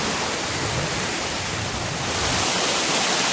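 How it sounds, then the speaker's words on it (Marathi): Water from Varjhot waterfall crashes down in a dense, loud, unbroken roar heard from right beneath the falls, a steady wash of noise with no voices. "आपण ही धबधब्याच्या खाली पोचलो आहे"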